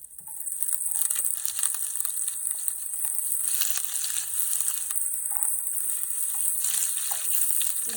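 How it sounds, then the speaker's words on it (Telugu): Small paneer pieces frying in a spoonful of butter in a pan, a steady bright crackling sizzle with occasional soft stirring pops, close and continuous without talk. "ఫ్రై చేసుకోవాలి బటర్లో"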